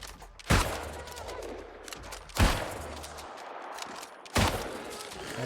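Three loud point-blank gunshots in New World, roughly two seconds apart, each a sharp blast followed by a rumbling decay, with faint background noise between them.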